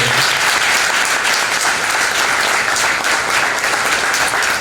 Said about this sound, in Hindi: तो उनके लिए भी जोरदार तालियां।